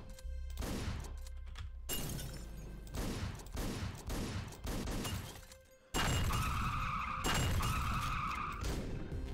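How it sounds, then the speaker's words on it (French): Car brakes skid in the top-down video game Hotline Miami, with sharp screeching bursts mixed with crashing, shattering and rapid gunfire-like impacts, loud and dense throughout with no talk. "Je commence à bien kiffer ce petit bruit de frein là"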